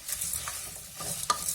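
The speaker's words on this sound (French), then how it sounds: "Le tout, il faut mélanger sur feu doux pour le moment." Lentils being stirred in a pot over low heat, giving soft scraping and faint sizzling strokes at close range, with a sharper clink near the end.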